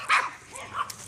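Two short barks from neighbouring dogs, heard at a distance outdoors near a garden, separated by a brief pause.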